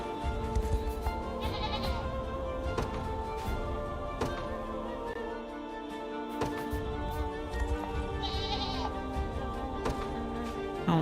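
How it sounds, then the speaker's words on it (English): Goats bleat repeatedly in the video game Unicorn Overlord over a busy background of game music and clicking sounds, the cries rising and falling at intervals. "More goats."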